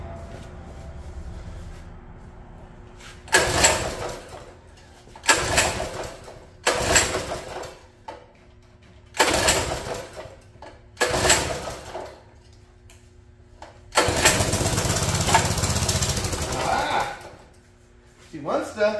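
A mini bike's small engine cranks in six separate bursts without starting, each a short rough churning of a few seconds, the last one longest. Quiet gaps and faint background noise fall between the attempts.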